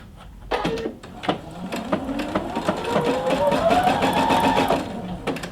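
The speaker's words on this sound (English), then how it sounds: "machine set up for a zigzag stitch" A sewing machine running a zigzag stitch, its rapid needle strokes ticking in a quick steady rhythm with a rising whirring motor tone, close and clear with no talk.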